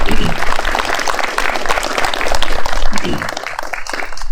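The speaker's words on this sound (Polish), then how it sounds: "także ogromne brawa tutaj dla Państwa" Audience applause at a volunteer fire brigade ceremony in Reszkowce, Poland, loud dense clapping close by with uneven bursts, sustained throughout.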